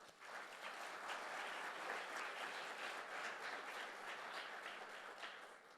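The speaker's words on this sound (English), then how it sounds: "So give yourselves a round of applause." A large crowd claps steadily at a State of the City 2024 address, a soft, distant-sounding wash of applause that swells and holds before easing slightly at the end.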